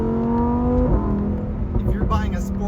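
A Lamborghini sports car engine idles with a steady low drone, then blips and revs briefly, heard up close.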